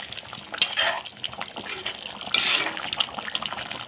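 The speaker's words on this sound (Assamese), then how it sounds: "এতিয়া ভালকৈ মই লৰাই দিম" Cauliflower and potato curry with green chillies and garam masala stirred in a pot, with clinking spoon-on-pan scrapes and wet bubbling sounds at close range, irregular and moderately loud.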